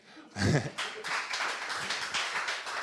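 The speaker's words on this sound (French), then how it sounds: "Vous pouvez vous applaudir." A congregation applauding during a Sunday church service: a burst of clapping starts suddenly and carries on as a steady patter to the end, and a voice is heard at the same time.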